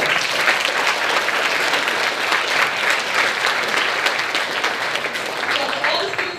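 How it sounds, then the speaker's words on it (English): A large room of students at a science and engineering event claps for the youngest attendees, producing loud, sustained applause with crowd voices mixed in beneath it throughout. "Give yourself a round of applause."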